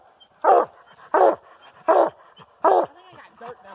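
A coonhound barks up a tree on a mountain hunt in Texas, giving four evenly spaced, fairly loud barks about half a second apart, followed by a fainter whine.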